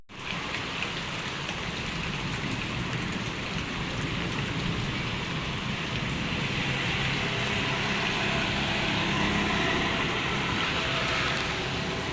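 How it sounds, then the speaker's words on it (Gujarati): Heavy, continuous rain pouring down, a dense even hiss of drops on surfaces that holds steady throughout. "એક કલાકથી મિત્રો વરસાદ આવે છે"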